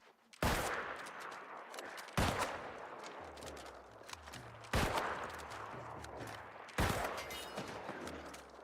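Four loud, sharp rifle shots ring out in the Call of Duty video game, spaced about two seconds apart. Each crack is followed by a rumbling decay, with low tonal game sounds underneath.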